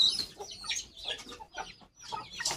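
A frightened guinea fowl gives a run of harsh, clucking calls in short bursts, fairly close, with brief pauses between them.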